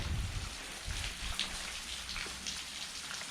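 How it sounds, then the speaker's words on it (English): Water rushing along the Elk River on a trail, a steady close hiss and patter of flowing water, with a few low thumps at the start and no voices. "I hope you can hear that water"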